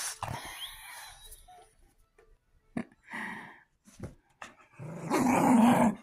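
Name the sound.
dog named Coco growling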